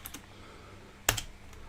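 Computer keyboard keystrokes, a few light taps followed by one sharp louder key press near the end, close and clear against a quiet hum with no talking.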